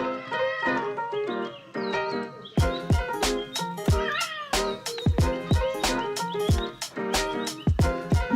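A grumpy cat meows and caterwauls in a loud, close series of drawn-out wails and yowls, more intense in the second half, with brief sharp knocks between them.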